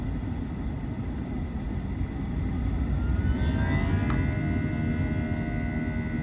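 A British Airways airliner's engines spool up during a go-around on landing, heard from inside the cabin as a low roar that swells partway through while rising whining tones climb above it.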